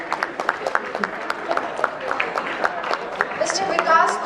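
An audience at a corporate IT summit in India claps in scattered, uneven bursts, with crowd chatter mixed in and the applause building slightly toward the end.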